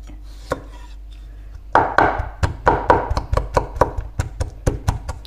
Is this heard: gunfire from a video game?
no